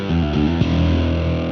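Bass guitar played through a distortion effect with crunched highs, a few quick plucked notes followed by a sustained, gritty, buzzing tone ringing out loudly.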